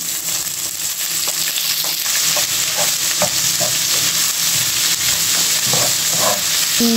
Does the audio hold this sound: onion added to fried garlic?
yes